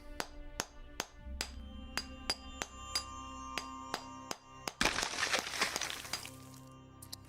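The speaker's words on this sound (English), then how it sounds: "Let's use the hammer and chisel." In the Pillars of Eternity video game, a hammer and chisel strike ice in a sharp, steady series of about a dozen evenly spaced clinks, followed by a bright, crackling burst as the ice breaks apart.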